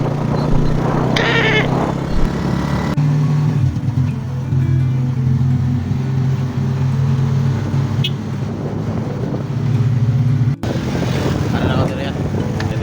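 Motorized tricycle engine idling and running, a steady low motorcycle-style drone with a gear change partway through, close and continuous while people talk nearby.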